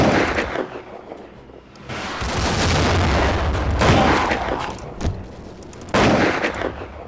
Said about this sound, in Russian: Так, ждем опять выстрела.